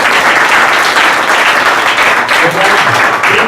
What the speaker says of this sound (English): This brother, you should give him a big round of applause.